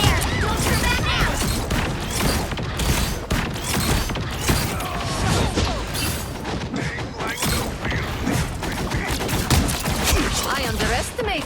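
Bombs explode in a chaotic Marvel Rivals battle, a dense unbroken barrage of blasts, gunfire and clanking mechanisms running throughout, loud and close, with occasional character voices mixed in.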